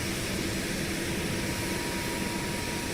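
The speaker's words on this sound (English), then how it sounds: "So we're jumping back into the helicopter." UH-60M Black Hawk helicopter engine in X-Plane 12, a loud, steady turbine roar and whine from the cockpit at Manhattan Heliport, continuous and unchanging without talk.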